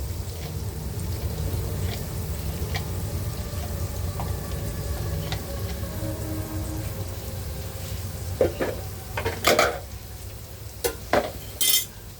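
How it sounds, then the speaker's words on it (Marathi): A steady, low sizzle of chopped onion frying on a griddle pan runs throughout. Toward the end come a few scraping stirs and clinks of a utensil against the pan. "आपण कांदा शिजून घेऊया"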